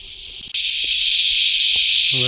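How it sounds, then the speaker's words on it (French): Cicadas sing in a loud, continuous high-pitched drone at 7:30 in the morning near Byron Bay, rising sharply after a brief quieter start, with a voice beginning right at the end. "à 7h30, on entend déjà bien les cigales"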